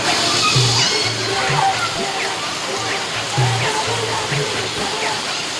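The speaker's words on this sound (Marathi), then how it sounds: "जोरात आलाय पाऊस" Heavy rain pours in the Konkan in a loud, constant rush of water, with faint voices and tones murmuring underneath.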